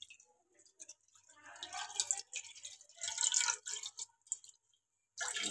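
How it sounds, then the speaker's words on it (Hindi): A glass of water is poured into a cooking pot for chicken drumsticks, giving quiet splashing and trickling in short uneven bursts, close and soft. "एक गिलास पानी का मैंने इसके अंदर डालना है।"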